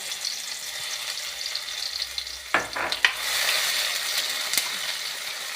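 Cumin, ajwain and crushed garlic sizzle in hot oil, a soft steady hiss broken midway by a few sharp stirring scrapes and a louder flare of frying.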